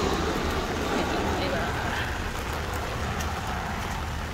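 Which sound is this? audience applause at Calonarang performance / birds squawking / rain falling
rain falling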